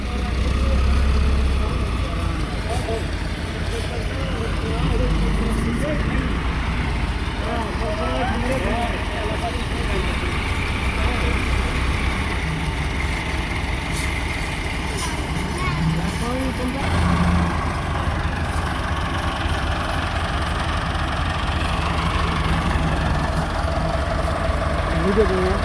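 Two tractors, a Pajasi and a Ghazi, run on sand during a pulling contest, their diesel engines producing a loud, continuous, heavy rumble with shifting revs throughout, under crowd noise and talk.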